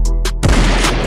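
Two quick sharp reports ring out from a Glock 19 Gen 5 pistol fitted in an MCK conversion kit, followed by a louder, booming shot with a lingering echo, close and loud.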